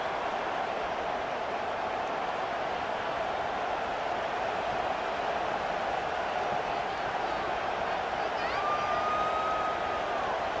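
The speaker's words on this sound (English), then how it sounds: "This crowd bringing an ear-splitting welcome to their visitors." A packed LSU football stadium crowd roars continuously at kickoff against Michigan, a steady, dense wall of cheering with faint whistles rising late and a commentator's voice over it.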